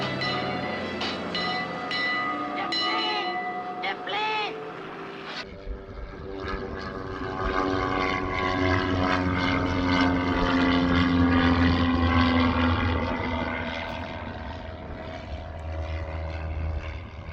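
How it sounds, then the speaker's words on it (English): An airplane passes overhead in a residential neighborhood, a broad engine drone swelling in the second half and holding loud before easing slightly, preceded by brief outdoor noise. "The plane, the plane."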